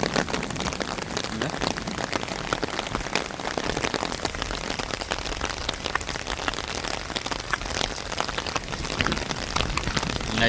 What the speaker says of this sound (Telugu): ఇప్పుడు వర్షం పడుతుంది.